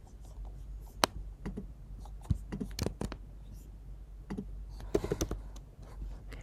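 Scattered keystrokes and clicks on a computer keyboard while working on layers in a design program, irregular taps spread across several seconds with quiet pauses between them, close and moderately soft.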